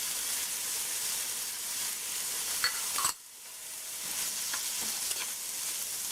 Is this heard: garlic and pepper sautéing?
yes